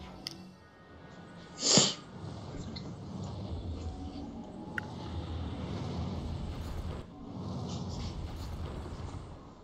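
A single loud sneeze or sharp sniff bursts out close by, set against a quiet room background.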